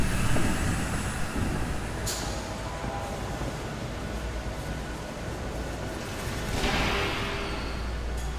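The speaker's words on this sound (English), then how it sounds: "There's a train coming." A train rumbling past in a Batman Telltale video game, a dense, loud roar of wheels and rolling noise that keeps going for several seconds and swells near the end.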